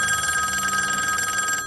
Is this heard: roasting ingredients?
no